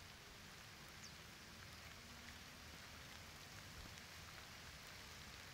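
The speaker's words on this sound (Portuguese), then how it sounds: "ouve o barulho da chuva" Steady rain pours down, a soft, even hiss of drops hitting surfaces that holds unchanged throughout, fairly faint and with no voices.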